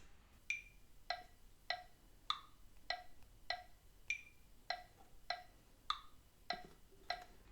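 Light, crisp clicking beats tap out a 6/8 pulse, about a dozen evenly spaced ticks with subtle accent shifts, soft and alone with no voices.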